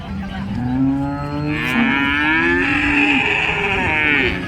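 A cow that calved the day before moos loudly and close by at the Modnimb cattle market, one long, drawn-out low call that rises into a strained, higher bellow before tapering off.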